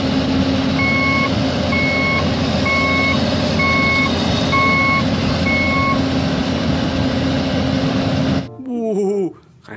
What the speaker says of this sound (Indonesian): di sini ada mobil sedang membawa beko